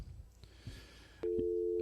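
A telephone line tone on a radio call-in show: faint line noise and clicks, then a loud, steady electronic tone cuts in abruptly and holds to the end.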